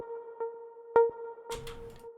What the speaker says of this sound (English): The first melody pluck sounds like this.